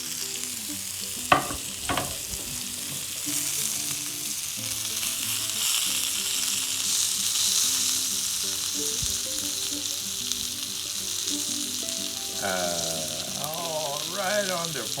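Tri-tip steak sizzling steadily in a hot pan, a continuous close hiss with occasional stirring clanks, and a voice talking briefly near the end.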